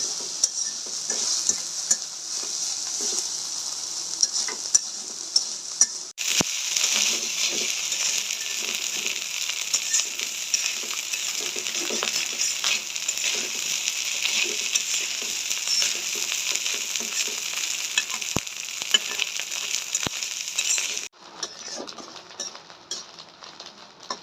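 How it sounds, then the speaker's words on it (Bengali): Dried kachki fish fry in a pan with a steady, bright sizzle that runs throughout, briefly dipping then swelling, with occasional scrapes of a spatula stirring the pan near by. "লাল লাল করে একটু ভেজে নেব"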